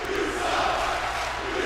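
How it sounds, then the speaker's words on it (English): A hostile Chicago arena crowd in the wrestling game WWE 2K24 roars with a dense, continuous wash of jeering and booing, loud and unbroken throughout the short stretch. "These people certainly not too fond of Solo,"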